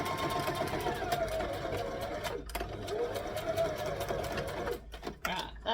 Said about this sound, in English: I'm going to stitch it so it stops doing that.